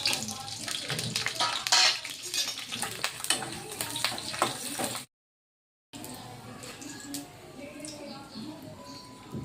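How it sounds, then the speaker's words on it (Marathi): Green chillies frying in hot oil in a home kitchen hiss and crackle unevenly for several seconds, breaking off briefly before a quieter sizzle resumes. "आता मी पहिले मिरची तळून घेणार आहे।"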